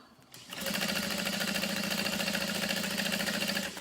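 A sewing machine runs a quick steady burst of stitching with contrasting thread on a backpack, a rapid even mechanical whirr close by that starts abruptly and holds without talk.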